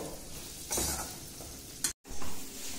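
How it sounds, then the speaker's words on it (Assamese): A spoon scrapes and stirs through a pan of rice and water for a Nepali festival dish, soft sizzling underneath as the liquid cooks off, with a few louder scraping strokes and a brief cut-out near the end. "এয়া অকণমান লৰাই আছোঁ বস্তুটো অলপ মানে পানীটো মাৰ যোৱালৈকে অলপ লৰাব লাগিব"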